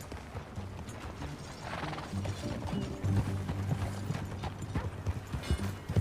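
Horse hooves clop at a steady walking rhythm in Red Dead Redemption 2, quiet and close, with soft creaks and mechanical clicks mixed in.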